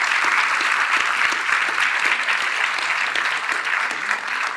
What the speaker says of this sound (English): First, a round of applause for Marvin and his team.